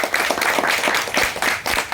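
An audience at a Toastmasters-style club meeting applauds a speaker, a short burst of steady, moderately loud clapping from a small crowd lasting under two seconds.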